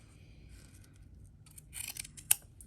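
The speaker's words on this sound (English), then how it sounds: "now we're going to trim the seam allowance down" Scissors trimming a fabric seam allowance while sewing pants, a few quick, crisp snips near the end after near silence, close and fairly quiet.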